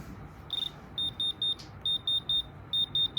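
An electronic diamond tester gives a run of short, high, evenly spaced beeps while it is pressed against moissanite stones set in an iced-out watch. The beeps come in quick clusters with brief gaps and no talk.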